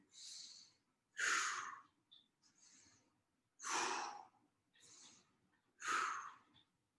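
Slow, deliberate breaths during a stretching exercise: three strong exhales with softer inhales between them, close and clear in a quiet room, with no talking.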